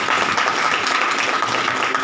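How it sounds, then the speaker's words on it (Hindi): An audience claps at a Hindi poetry gathering, giving dense, steady applause that holds throughout. "इस पर आपको तालियां बजानी पड़ेगी"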